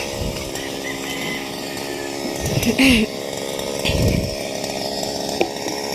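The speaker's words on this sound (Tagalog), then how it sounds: "grass cutter" A two-stroke grass cutter drones steadily nearby, its buzzing engine rising slightly in pitch a couple of times.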